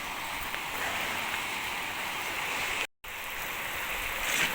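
Heavy rain pours steadily in a dense, even hiss like rushing water, close and loud throughout, with a brief drop to silence partway through before the downpour resumes.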